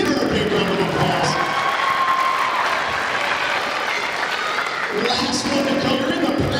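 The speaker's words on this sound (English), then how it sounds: "Give her a big round of applause." Applause from an audience at a school graduation assembly, a steady wash of clapping with some cheering that swells again near the end, fairly loud and close.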